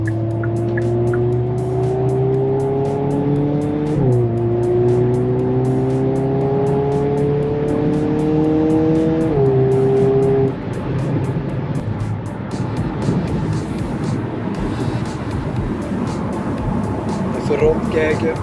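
A 2022 Hyundai Kona N with a 280 hp engine drives at speed, its engine note rising through the gears with shifts and revs, then settling into loud road and wind noise while a person talks over it.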